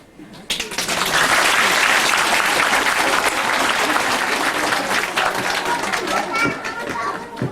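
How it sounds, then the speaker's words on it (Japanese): An audience at a kindergarten folk song recital breaks into loud, sustained clapping that lasts about seven seconds, with children's voices and chatter mixed into the applause. "皆さん、たくさんの拍手をありがとうございました。"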